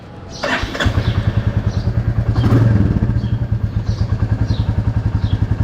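A Royal Enfield Classic 350 motorcycle cold-starts in the morning: a short cranking clatter, then the engine catches into a steady, loud, rhythmic single-cylinder thump that settles into a close idle with no talk.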